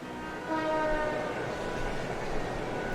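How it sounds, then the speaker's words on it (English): A train ride in the video game Trails of Cold Steel on the main line: a steady rumbling rail drone with a faint horn-like tone at the start, continuous and moderately loud, with no talk. "we changed trains at Garelia Station and rode the main line north, heading toward Celdic"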